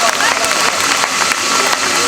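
Audience applause at a residents' welfare association Independence Day celebration, dense and steady clapping from a crowd held at a constant level for about two seconds, with background noise mixed in.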